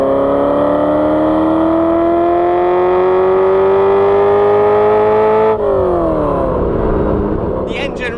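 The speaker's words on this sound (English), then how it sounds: "You can hear the engine behind you." Ferrari 348 flat-plane crank V8 revs loud and close, pitch climbing steadily through a gear before dropping sharply at a shift and pulling again, with brief talk near the end.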